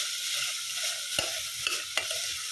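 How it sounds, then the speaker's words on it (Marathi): Vegetables sautéing in a pan while being stirred: a steady, close sizzle throughout, with a few sharp taps of a spatula against the pan and no talking. "थोडंसं परतून घेते छान।"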